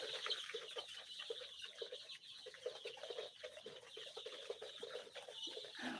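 Young chickens cluck and cheep continuously in a brooder, a steady busy chatter of many birds at low level with no voices.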